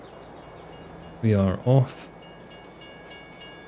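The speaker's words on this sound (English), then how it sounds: "So that's the train that's sent away." A freight train departs in Farming Simulator 22 on the Griffin Indiana map, giving two short, loud horn blasts in quick succession over a low steady background, with a voice briefly heard.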